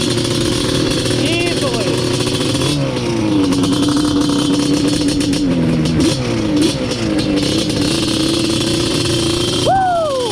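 Yamaha Banshee two-stroke drag ATV engine revving loudly and continuously nearby, pitch rising and falling through repeated throttle blips, with a person speaking over it.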